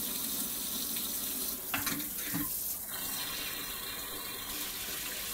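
Cold water runs steadily from a kitchen tap into a sink, a faint, continuous rushing with a brief splashy disturbance partway through.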